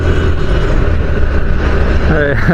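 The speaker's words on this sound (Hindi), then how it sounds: "थोड़ा सा एक्सीलरेटर दबाते हैं, आखिर 60 तो कर लें, 60" A car in Bangalore city traffic accelerates, its engine note rising with a steady low rumble and wind noise, climbing audibly in pitch near the end.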